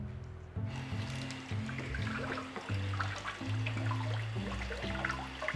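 Cauliflower is washed under a running kitchen tap, giving a steady rush of water over the head with shifting splashes and gurgles, close and fairly quiet, with no talking.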